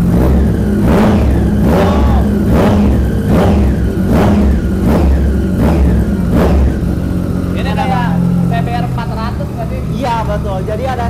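An Aprilia RSV4 RR sport motorcycle is revved repeatedly while parked. Six sharp throttle blips rise and fall in a quick rhythm over a loud idle. People then talk over the lower, settling engine.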